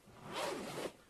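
A zipper on a co-angler's fishing gear bag being pulled open in one continuous, close, quiet zip, with a soft rustle of fabric and no voices.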